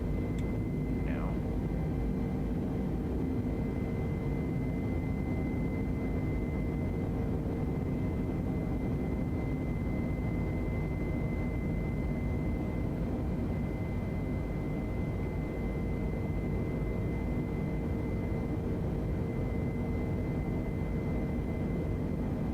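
Airliner engines hum in a flight video game during a night landing with gear going down: a steady, loud low drone with faint tonal whine, continuous throughout with no distinct events.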